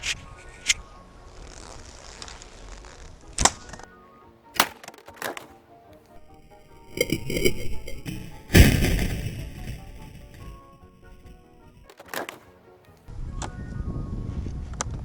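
A sharp impact crack as an arrow from a 30 lb recurve bow strikes thin aluminium sheet with a ringing clatter, among other knocks and thumps scattered through a noisy outdoor scene.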